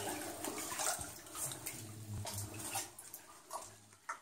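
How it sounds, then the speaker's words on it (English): Faint running water trickles and splashes deep inside the abandoned Lost Horse Mine, with quiet knocks and shuffling from nearby movement. "Definitely hear the running water."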